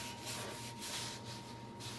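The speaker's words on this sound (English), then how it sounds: "You want to rub oil all over it." Oil is rubbed by hand over a rusty cast iron pan, a soft, close, steady scrubbing that swells in short strokes, quiet and with no voices.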